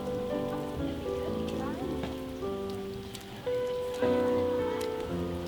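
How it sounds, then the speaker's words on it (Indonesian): Rain pours down over an outdoor market in Kebumen, a steady hiss of drops on surfaces with a busy murmur of market activity and tonal sounds mixed in throughout. "Sayangnya hujan mulai mengguyur."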